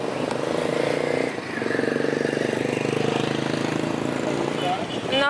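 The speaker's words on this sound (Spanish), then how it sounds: "por aquí casi no circulan carros, circulan puras motos" Motorcycles pass on a busy street in the Peruvian jungle region, where motorbikes far outnumber cars; a steady, loud engine drone fills the whole stretch with a brief dip partway through, under faint background voices.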